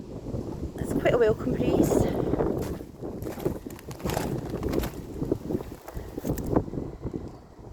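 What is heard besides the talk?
wind picking up outdoors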